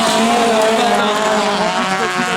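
Autocross race cars in the T4 class, including a Toyota MR-S, roar past on a dirt track at St Germain d'Anxure, a loud, dense engine wash that swells and stays steady throughout with faint crowd noise beneath.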